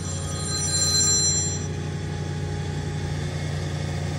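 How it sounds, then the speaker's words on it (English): A phone rings on a landscaping job site, a bright electronic tone lasting about a second and a half over a constant low rumble of idling machinery. "my phone's ringing"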